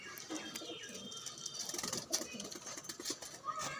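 Pigeon cooing from a strong flying pigeon in Trichy, soft low coos mixed with bird chatter and faint background noise, with people talking nearby.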